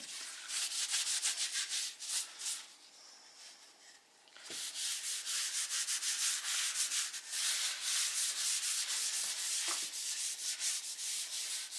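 A cloth rubs linseed oil into a wooden cutting board in steady back-and-forth strokes, a close, soft scrubbing that pauses briefly once and then continues.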